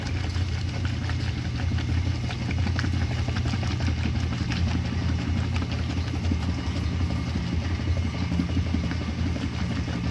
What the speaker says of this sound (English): this is the Multimatic Transmission. It uses two belts, one for agitate, one for spin.